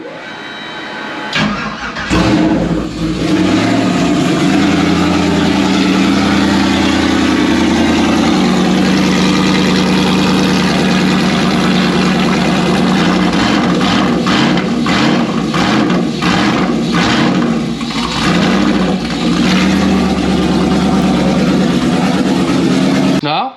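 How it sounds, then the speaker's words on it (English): A car engine with a turbo and crossover pipe fitted runs loud and close for a long stretch, a steady rumble with brief revs and pops mixed in. "let's just give this thing some power and see if she pops off and see what she sounds like"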